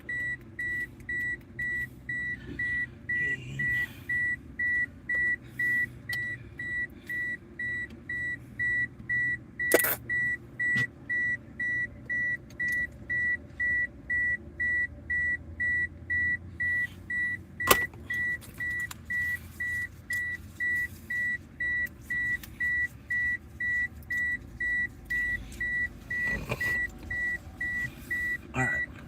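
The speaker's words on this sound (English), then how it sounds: "Sorry for the beeping." A car's warning chime beeps steadily and evenly throughout, a regular pulse repeating roughly every half second inside the vehicle, over low cabin rumble with a couple of sharp clicks.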